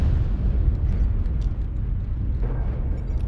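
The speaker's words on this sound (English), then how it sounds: "Airstrike online. Artillery strike." Artillery strike explosions in MechWarrior Online: deep, rumbling booms that roll on continuously with heavy low-end weight, loud and sustained, with no clear separation between individual blasts.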